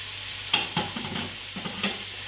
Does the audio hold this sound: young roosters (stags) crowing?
no